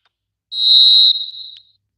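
Referee's half-time whistle in an eFootball match, one loud, clear blast held for about a second, then tailing off in a shorter wavering note, heard alone.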